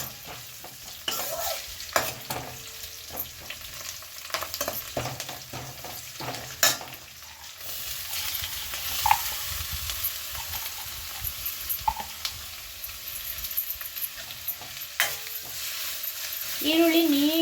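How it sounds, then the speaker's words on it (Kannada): Chopped onions and curry leaves fry in a pan for egg curry masala, a continuous close sizzle broken by repeated stirring scrapes and clinks throughout. "ಬ್ರೌನಿಷ್ ಆಗೋವರೆಗೂ ನೀಟಾಗಿ ಫ್ರೈ ಮಾಡ್ಕೊಳ್ಳಿ"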